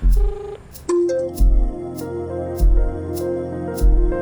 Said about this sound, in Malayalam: റിങ് ചെയ്യുന്നുണ്ട്. റിങ് ചെയ്യട്ടെ.